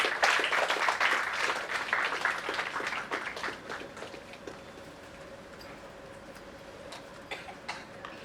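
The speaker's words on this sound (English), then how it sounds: "Please give him a round of applause." An audience at a memorial lecture claps in a round of applause for an honoree, a dense patter of many hands that gradually thins and fades into scattered claps.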